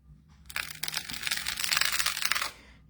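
Crunchy glitter paste is spread with a butter spreader, giving a close, gritty scraping crunch that lasts about two seconds before stopping.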